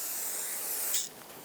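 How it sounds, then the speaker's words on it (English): Brake parts cleaner is sprayed onto a rear brake rotor of a 2011–2018 RAM 2500: a close, steady aerosol hiss that runs for about a second, then cuts off, leaving faint residual noise. "You want to make sure you get any oils off with brake parts cleaner and a clean rag."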